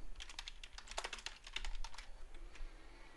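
Quick, light keystrokes tap out a short name on a computer keyboard, a close run of irregular clicks over a faint hum that pauses briefly midway before a few more presses.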